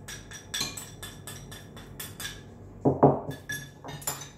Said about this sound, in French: Donc vous mélangez la farine